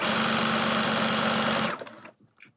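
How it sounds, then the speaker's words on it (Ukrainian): A sewing machine runs fast and steadily, stitching fabric with a dense even whir, then stops abruptly near the end, leaving a few faint handling noises. "Отак ми шиємо, трішки натягуємо, зовсім трішки натягуємо"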